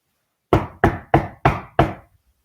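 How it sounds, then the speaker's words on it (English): A heavy knocking on a wooden door, five loud, evenly spaced blows, close and alone against silence. "there was a heavy knock on the door"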